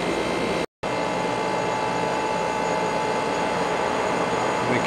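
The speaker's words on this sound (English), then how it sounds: "That compressor is singing a nice song." A garage air conditioner compressor runs with a steady mechanical whir and a faint whine, loud and constant apart from one very brief dropout near the start.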